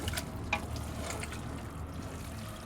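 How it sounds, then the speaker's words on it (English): Lard rendering in a pot being stirred, heard as a close, soft bubbling and gentle sizzle with a few scraping clinks of the spoon near the start. "we just give that another little stir"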